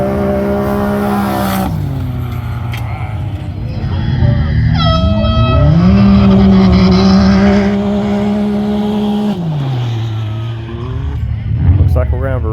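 Side-by-side off-road vehicles racing at a county fair, engines revving and rising in pitch as they pass, loud and sustained with shifting tones and a brief horn-like blare, with a voice speaking over the action.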